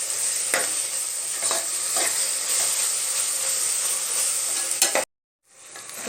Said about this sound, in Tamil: இது பச்சை வாசனை போகிற அளவுக்கு நல்லா வதக்கி விடலாம்.